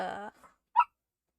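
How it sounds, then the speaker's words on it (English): A pet dog gives a single short bark indoors, somewhat distant, after a person briefly speaks, then silence follows. "my dog's barking at her."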